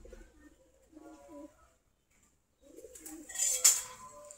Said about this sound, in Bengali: মোটামুটি অনেকগুলা কবুতর আছে এখন আমাদের।